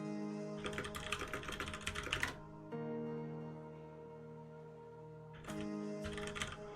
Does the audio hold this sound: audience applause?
no